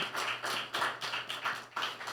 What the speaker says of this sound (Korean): 우리 격려의 박수 한번 보내드리겠습니다.